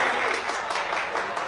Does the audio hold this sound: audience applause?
yes